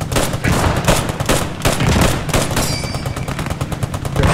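Rapid machine-gun bursts in the World War II game Squad 44, close and loud, with repeated rhythmic shots and brief pauses between strings of fire.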